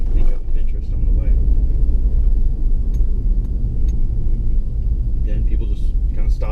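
A car cruises along a quiet road near Umm Ghuwailina, its steady low engine and road rumble continuous and close, with a voice talking over it.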